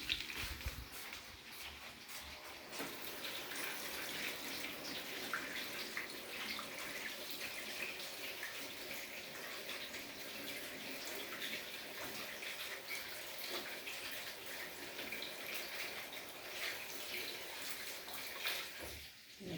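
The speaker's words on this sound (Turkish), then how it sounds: "Ben bu arada elimi yıkayayım" A kitchen tap runs steadily as hands are washed beneath it while mussels fry nearby, a continuous close splashing hiss that holds for nearly twenty seconds with no talk over it.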